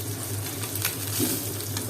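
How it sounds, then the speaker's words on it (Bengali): Pabda fish frying in hot oil in a pan, giving a steady, close, continuous sizzle that holds even throughout with no talking. "তেল গরম হয়ে গেছে, মাছ দিয়ে দিলাম"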